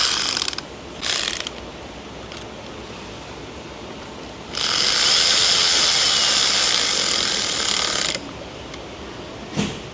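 A Snap-on socket ratchet tightens a 10 mm nut on a Chrysler Dodge 3.6 engine. Brief clicks come first, then a steady few-second run of rapid ratcheting, close and fairly loud over an idling engine hum.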